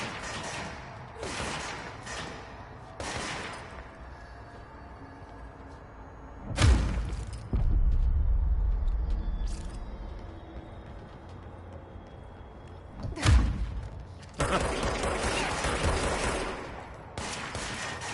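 Gunfire from the video game Control: a few loud, sharp shot bursts separated by quieter stretches of game ambience, with heavy low thuds after some volleys.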